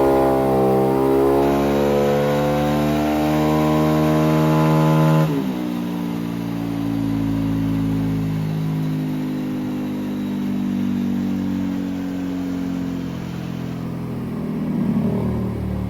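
A bored-up Honda Vario 110 scooter engine on a test run, revving high and loud for several seconds before dropping to a steady lower running drone that continues to the end.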